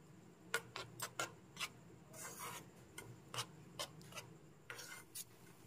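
A spoon stirring milk powder into a sandesh mixture in a pan, with a series of quiet scraping strokes in an uneven rhythm and brief pauses between them, near and soft, no voices.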